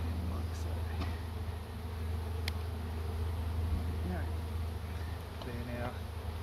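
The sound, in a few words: honey bees buzzing at relocated tree hive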